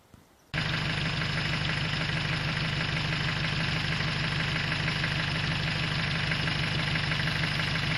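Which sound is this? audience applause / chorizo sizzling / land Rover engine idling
land Rover engine idling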